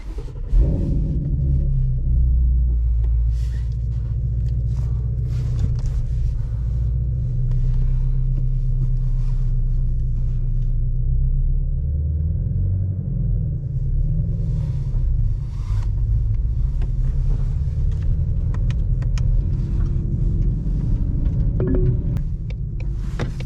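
A 2020 Shelby GT350 engine rumbles steadily from inside the car while driving, a deep, constant low drone with mild swells in pitch, loud and unbroken throughout, with no talking.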